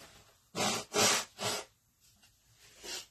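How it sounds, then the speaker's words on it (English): Several loud, breathy nose blows in a row, close up, followed by softer sniffs, with no talking. "I had to blow my nose."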